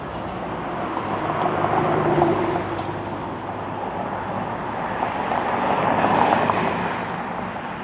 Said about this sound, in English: This car here wants to turn without giving me a chance to cross